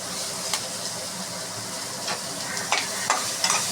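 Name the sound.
chopped onions and curry leaves frying in pan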